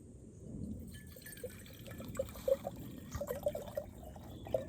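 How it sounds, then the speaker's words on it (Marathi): Water trickles into a small metal pot for a kokum drink, a quiet run of drips and splashes that grows busier toward the end, with no talking. "तांबयात थोडंसं पाणी घालूया"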